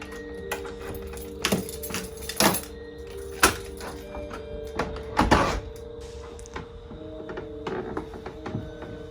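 Keys jangle in the Phasmophobia video game at the start of a haunted house investigation, sounding as a run of sharp metallic clinks and rattles with a few louder bursts over a faint background hum.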